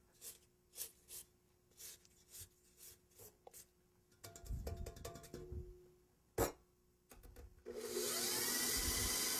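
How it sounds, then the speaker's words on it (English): An electric mixer beats eggs into creamed butter and sugar, starting after a series of soft scraping strokes in the bowl and rising into a steady loud whir at the end. "I'm going to add 3 eggs to it and mix that together just until the eggs are incorporated"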